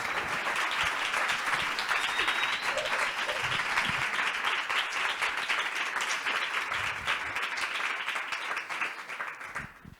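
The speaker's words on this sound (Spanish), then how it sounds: "quiero escuchar este aplauso para recibir a la maravillosa Eva" Studio audience applauding to welcome a guest, Eva, onto a Spanish-language talk show, a dense, steady wash of many hands clapping for about ten seconds before trailing off at the end.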